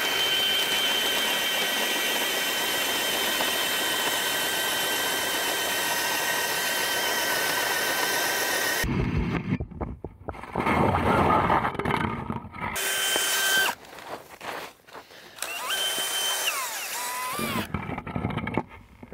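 A Jiffy Ice Scout power auger drills a hole through about 24 inches of lake ice. A loud, steady engine drone runs for several seconds, then becomes choppy and uneven as the motor revs and drops.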